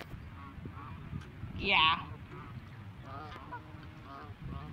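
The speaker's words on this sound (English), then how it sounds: "Look at all these geese. Why are there so many geese?" A goose gives one sharp honk from a flock of geese in a movie scene. The call stands out over a quiet background, and a voice says a word briefly.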